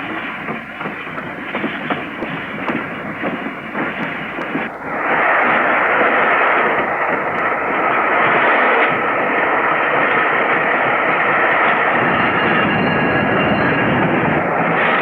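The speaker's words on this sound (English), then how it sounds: "But Flying Scotsman was away without mishap and dead on time." Flying Scotsman steam locomotive departing in the 1960s, a loud continuous rushing roar of train noise that swells and grows steadier partway through, with no talk.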